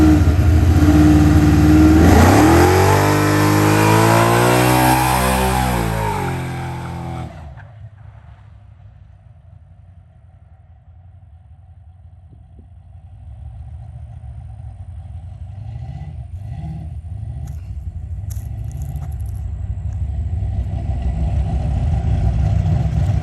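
A boxy Chevy engine revs hard and loud through the first seven seconds, then drops to a low idle rumble that slowly builds again toward the end, with no talking.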